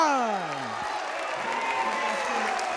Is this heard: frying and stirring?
no